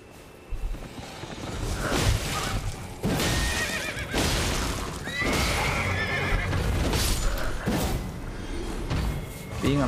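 A horse in the Elden Ring game whinnies loudly several times, with hoof clops, thuds and swooshing combat sounds mixed between the calls, close and prominent.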